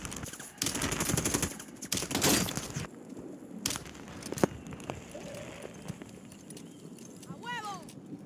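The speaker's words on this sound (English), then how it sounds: "I'm taking fire." Gunfire in the Warzone game on Rebirth Island: bursts of rapid automatic shots early on, then scattered single cracks, with voices talking over the action.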